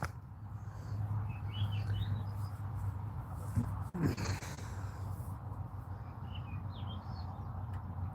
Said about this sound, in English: beautiful to hear the birds chirp